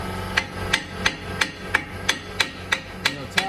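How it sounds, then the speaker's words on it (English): A hammer tapping on a brake caliper while bleeding brakes: about ten sharp metallic taps in a steady, even rhythm, close and clear with a faint hum underneath. "and you'll tap on the caliper."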